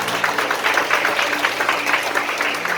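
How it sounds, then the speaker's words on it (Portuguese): A church congregation claps together in steady, dense applause that fills the space for a few seconds, with a faint voice beneath. "Vamos aplaudir o Senhor."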